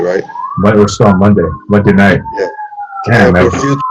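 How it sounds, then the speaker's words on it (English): An emergency siren wails in the background in Los Angeles, a rising and falling tone held under loud, close conversation between several people. "Those sirens in the background,"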